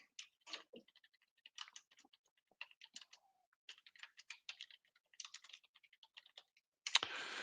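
Keys clatter on a computer keyboard in quick irregular bursts, fairly close and quiet, with no talking, ending in a louder scraping rustle.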